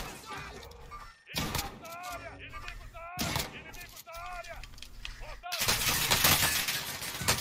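Gunfire in the Call of Duty Warzone video game: several loud, sharp broadband bursts break through ongoing talk, followed by a denser, sustained stretch of noisy firing near the end.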